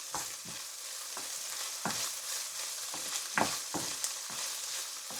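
Thick-cut chopped bacon sizzles steadily in a pan for leek, potato and bacon soup, with a bright continuous crackle broken by several louder stirring scrapes and spatters close by.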